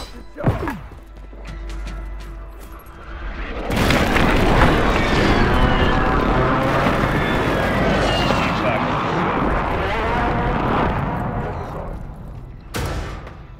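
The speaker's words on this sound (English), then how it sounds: "Enemy precision airstrike. Find cover." Loud rolling explosions and the roar of aircraft from an enemy precision airstrike in a Call of Duty match, starting after a sharp early impact and rumbling on for about ten seconds before another blast.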